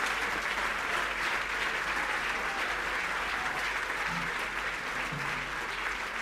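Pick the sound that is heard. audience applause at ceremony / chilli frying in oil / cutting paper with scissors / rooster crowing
audience applause at ceremony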